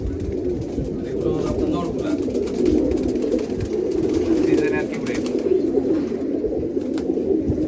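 Giribaz pigeons coo softly and repeatedly at close range, their low burbling calls running under steady conversation between men.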